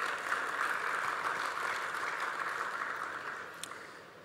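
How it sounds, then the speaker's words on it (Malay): Crowd applause for participants at the closing ceremony of an entrepreneurial incubator and pitching competition, a steady wash of many hands clapping that slowly fades toward the end. "Sekali lagi lah tepukan paling gemuruh kepada peserta semua."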